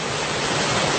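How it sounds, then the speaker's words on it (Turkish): Waterfall at Deregözü roaring in a dense, unbroken rush of falling water, loud and constant with no voices. "Deregozir'de şelaleyi çekiyoruz."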